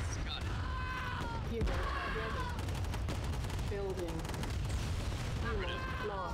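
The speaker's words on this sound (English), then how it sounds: "That turret's doing a fair amount of damage to my guys" Rapid turret gunfire in the 1995 strategy game Command & Conquer, with dense bursts of shots and blasts rattling steadily under someone talking.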